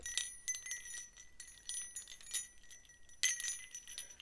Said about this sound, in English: Witch's bells.